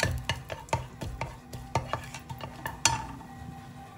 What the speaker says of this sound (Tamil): இதில் ஒரு பட்டை, ரெண்டு லவங்கம், ரெண்டு ஏலக்காய், பிரிஞ்சி இலை இதெல்லாம் போட்டு ஃப்ரை பண்ணிட்டு